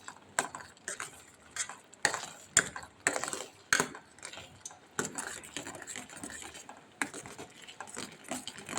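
A utensil stirs sago payasam in a cooking pot, producing irregular scraping strokes and sharp clinks against the metal, fairly close and moderately quiet, with no talking.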